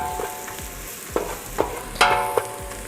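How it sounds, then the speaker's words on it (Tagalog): Onion and garlic toasting in a pan, a steady close sizzle broken by several sharp scraping stirs, with no voices. "Medyo i-toasted lang natin yung onion and garlic natin para masarap siya."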